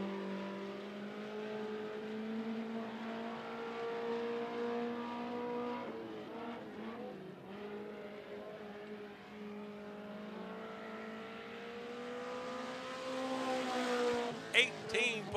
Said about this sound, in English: Now on the racetrack, this is the 29 of Mike Townsend.